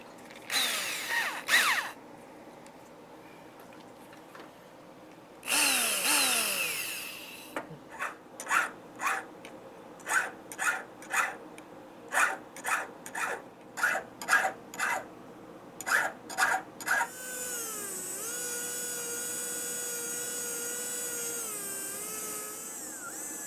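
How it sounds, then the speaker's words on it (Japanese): Small hand-held power tool, likely a rotary deburring tool, smoothing burrs off the edges of machined Honda Monkey engine parts for a four-cylinder conversion, running in short rhythmic bursts with a longer steady whine at the end, close and clear. "まだちょっとエッジがちょっとバリが出てたりするんで、それをきれいにしていきます。"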